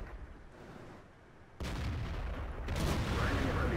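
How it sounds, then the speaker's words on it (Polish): Tank gunfire in World of Tanks from an Object 704: one heavy boom lands abruptly, and a second sustained blast follows over continuous rumbling battle noise. "Przecież to było w dolną płytę strzał."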